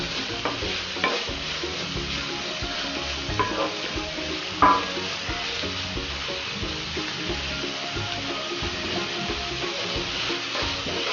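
Egg roll filling sautés in a pan, with a steady, close sizzle and repeated stirring scrapes throughout and one sharper clink partway through, with no talking.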